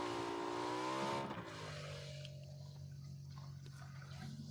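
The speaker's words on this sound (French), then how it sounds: "Une voiture à gauche." A car in the video game PUBG: Battlegrounds drives nearby, a loud engine drone sweeping upward in pitch for about a second, then falling away to a softer rumble.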